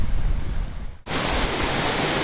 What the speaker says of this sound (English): You can hear the water roaring on my right.